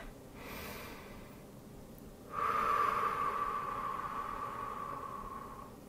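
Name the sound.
deep breathing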